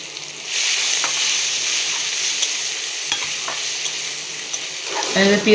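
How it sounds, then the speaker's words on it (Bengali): Onions fry in hot oil in a pan for prawn dopeyaza, a steady, close sizzle throughout, with a few light stirring knocks and a louder clatter at the end. "পেঁয়াজ দিয়ে এবার পেঁয়াজগুলো ভেজে নেব"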